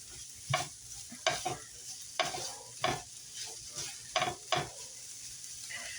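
Pieces of NY strip steak being stirred and frying in a pan, a soft steady sizzle broken by several sharp scraping stirs spaced about every second, close and alone.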